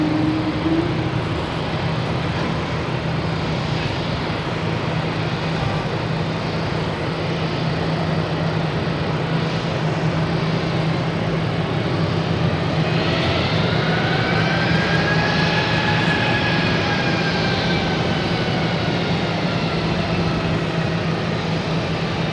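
Lufthansa jet taxiing at Boston Logan airport, a steady, fairly loud engine drone and whine that runs throughout, with a rising tonal sweep in the middle and no voices.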